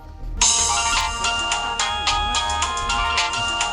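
A mobile phone ringtone plays loudly and on its own, a bright electronic melody of quick repeating notes that starts abruptly and keeps cycling without pause.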